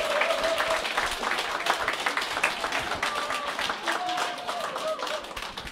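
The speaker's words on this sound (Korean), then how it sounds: "큰 박수 부탁드립니다." A live audience claps in welcome for a speaker at a corporate event, steady dense applause lasting several seconds at moderate loudness, with no voices over it.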